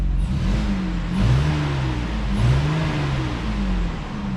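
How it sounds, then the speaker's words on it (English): A Ford Flex engine with a freshly replaced mid-pipe muffler is revved twice at moderate volume, each blip rising and settling back to a steady idle hum, nearby and with no talk. "Give it a rev."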